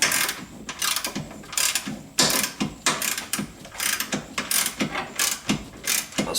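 A hand ratchet tightens bolts on the front bumper support of a 1976 Corvette, giving a series of quick, loud, close clicking strokes in an uneven rhythm.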